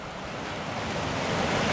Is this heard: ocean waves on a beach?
yes